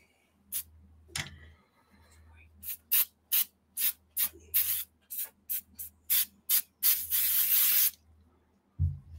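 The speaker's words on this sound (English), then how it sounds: "Oiling up my blade." Spray bottle misting oil onto a main-gauche parrying dagger blade, about a dozen short, sharp hissing squirts in quick succession, close, with a steady low hum beneath and a voice briefly near the start.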